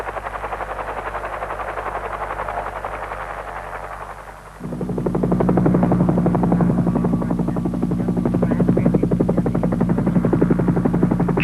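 A helicopter supporting tunnel construction thumps with a fast, steady rotor chop. It is softer at first, then steps up closer and louder midway and stays strong to the end.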